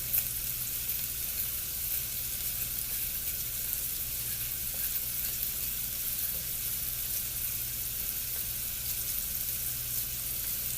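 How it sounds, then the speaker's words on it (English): Yellow peppers and other vegetables sizzle steadily in a hot pan, a close, even frying hiss with a low hum underneath, no voices. "Now once this cooked down to a fluorescent, just cook it down, cook your vegetables."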